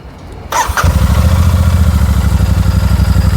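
A Royal Enfield Super Meteor 650 motorcycle engine cranks and starts after half a second of quiet, then settles into a loud, steady, thumping idle close by.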